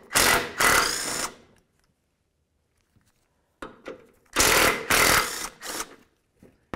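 A power tool removes 15mm bolts from the front shield of a 2006 Chevrolet Silverado in loud, close whirring bursts, two early and several later, separated by near silence.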